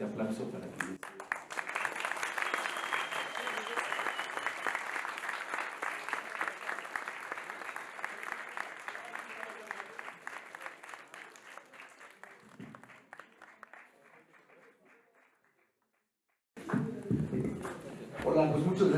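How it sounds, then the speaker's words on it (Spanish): Applause from a lecture audience welcoming a guest speaker, a loud crowd of clapping that gradually thins and fades into silence, before a voice begins speaking at the end. "vamos a recibirlo con un fuerte aplauso"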